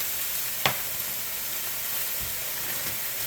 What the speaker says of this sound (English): we're going to throw in onions